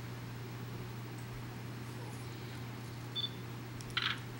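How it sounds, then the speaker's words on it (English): A couple of soft camera shutter clicks, brief and close, over steady low background hum. "I'll take one more picture."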